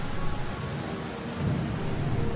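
Heavy rain pours steadily with a deep rumble of thunder swelling underneath, loud and close, filling the whole moment with dense noise and no voices.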